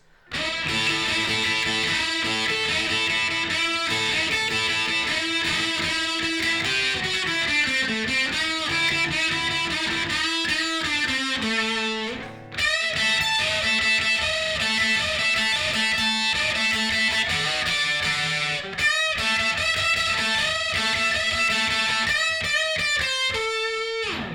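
Distorted electric guitar plays a sustained lead line with slow bends and held notes, continuous and loud, pausing briefly twice before carrying on.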